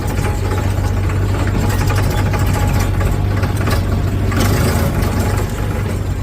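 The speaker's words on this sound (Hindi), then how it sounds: "ओ भाई साहब थोड़ा मुश्किल काम है ये ट्रैक्टर चलाने का।" A tractor engine runs loud and close with a constant low, throbbing drone that keeps an even pitch throughout and has no speech over it.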